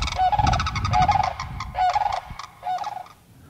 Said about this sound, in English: They are the loudest birds that we have around here. When they get to squawking, you can hear them from 2 miles away.